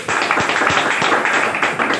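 Audience clapping loudly for a company owner at a gathering in India, a dense, sustained burst of many hands lasting the whole moment with no voices over it.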